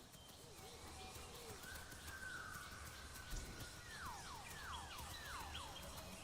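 Bird calls from the ambient environment of the dinosaur survival video game The Isle Evrima, with caws and repeated falling whistles against a soft, steady background hum, faint and distant.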